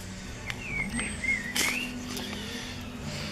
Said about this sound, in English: That's the bird singing.